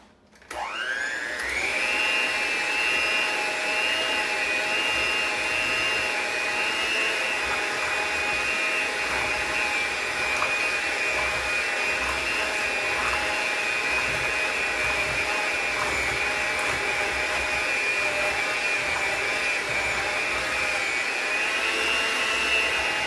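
An electric mixer whirs steadily at high speed through banana split pie filling, starting abruptly and holding a loud, even drone close by for the whole stretch, with no voices.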